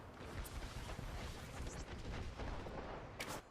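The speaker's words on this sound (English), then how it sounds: "Beautiful arc star. Nice nade." An arc star grenade goes off in Apex Legends during a competitive ALGS match, its electric blast sitting inside a dense, continuous wash of gunfire and explosions that holds steady throughout, with a sharp crackling burst near the end.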